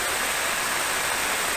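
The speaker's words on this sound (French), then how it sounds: "Donc ça, c'est un bruit de roulement" Ultrasonic recording of a correctly greased bearing, a smooth, steady hiss of broadband noise with no knocks or clicks, constant in level throughout.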